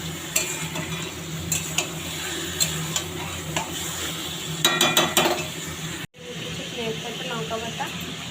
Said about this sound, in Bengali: টমেটোকে ভালো করে কষিয়ে নিই।